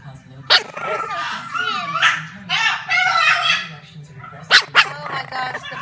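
French bulldog puppy barking near and loud in several sharp, high yips and short barks, mixed with whiny vocal sounds and scattered between brief pauses.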